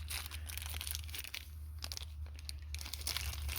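Plastic bags holding screws from an unboxed door shave and remote kit crinkle and rustle close by in quiet, irregular bursts over a low steady hum.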